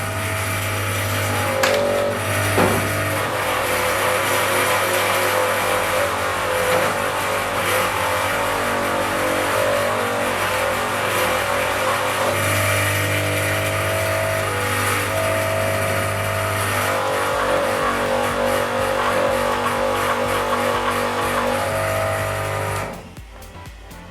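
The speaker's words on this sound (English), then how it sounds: "you're going to just do this by hand with a polishing machine" A polishing machine works a commemorative coin, its motor holding a loud, steady whir with a sustained hum and gritty high grinding throughout, before cutting out abruptly near the end; no voices.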